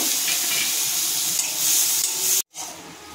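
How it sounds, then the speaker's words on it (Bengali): Raisins frying in butter give a continuous near sizzle and hiss as they are stirred, broken by a sudden short cut near the end, with no voices. "ওর মধ্যে আমি কিশমিশগুলো ভেজে নেব।"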